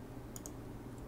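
A computer mouse double-clicks during work in GNU Radio software, two quick soft clicks close together against a low, steady room hum.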